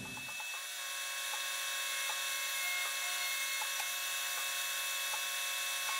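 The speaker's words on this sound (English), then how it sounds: "I don't like plunging end mills, especially into steel, so just gonna go really slow." A CNC end mill plunges slowly into steel for a custom auto knife blade, giving a steady high machining whine with faint regular ticks and no talking.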